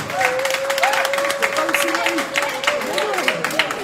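Audience at a press conference applauds for Fabregas, a dense wash of clapping from a crowd, fairly loud and steady, with a voice speaking over it.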